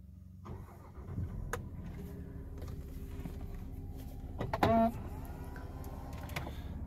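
A small electric steering column motor in a 2010 Jaguar XF S Portfolio 3.0 whirs briefly as the wheel moves, a short rising hum amid quiet cabin noise and faint clicks.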